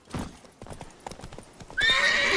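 Roach, a horse in the video game The Witcher 3, trots with quick, close clip-clopping hoofbeats that grow steadier and louder, joined near the end by a bright burst of game music.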